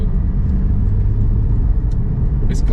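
A Porsche 718 Cayman GT4 with a PDK gearbox on the road gives a loud, steady low engine and road rumble from inside the cabin, with no talking.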